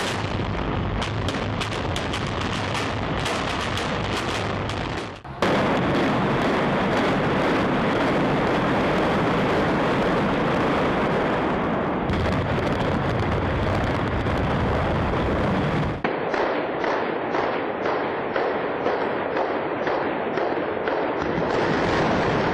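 Explosions in a building collapse, a dense series of loud booming blasts and rumbling crackle that shifts abruptly in character several times, with no speech.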